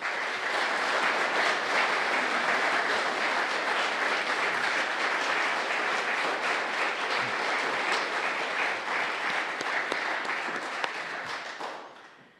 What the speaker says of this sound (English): the applause indicated the reception of that wonderful address